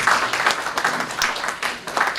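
Scattered hand clapping from a conference audience welcoming a speaker at an aviation careers event, uneven bursts with small dips, moderately loud throughout.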